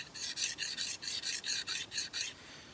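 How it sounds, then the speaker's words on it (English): An axe is sharpened on a small DMT diamond sharpening card, about ten even rasping strokes in a steady rhythm, close and clear with no speech. "These little DMT sharpening, what are they called, plates? Sharpening cards. They're little diamond cards."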